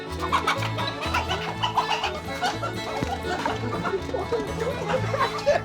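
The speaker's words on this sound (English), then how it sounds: "They had us trying to capture the chickens, you know, to transfer them over." Chickens cluck busily and continuously in a farm coop while people try to catch them for moving, with voices and some laughter mixed in close by.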